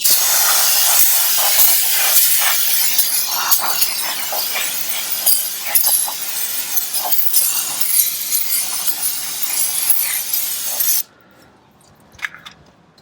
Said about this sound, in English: let's go ahead and spray this down just a little bit more